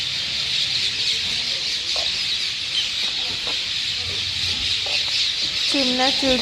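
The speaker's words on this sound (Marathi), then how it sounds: "पक्ष्यांचा चिवचिवाट खूप आहे" Busy chorus of chirping birds over a constant hiss, with scattered calls and a louder clucking burst near the end.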